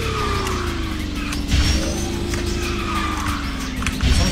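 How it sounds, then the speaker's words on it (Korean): A kart drifts in the racing game KartRider, a sustained skid squeal gliding in pitch over a steady engine drone, with short bursts of grinding at about 1.5 and 4 seconds. "드리프트 감속을 한번 보도록 하겠습니다"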